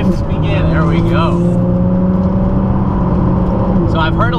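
Ford GT accelerating with short shifts, the engine drone rising and stepping between gears, loud and close, with people talking over it.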